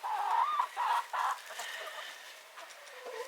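Hens cluck close by in a sunny backyard flock, one resembling a Rhode Island Red, in several loud bursts early on that fade into quieter, softer clucking and murmuring.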